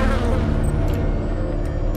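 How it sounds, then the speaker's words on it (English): A dense, loud swarm of bees buzzing in the video game System Shock 2, a steady droning hum that fills the whole moment without pause. "Oh, the bees!"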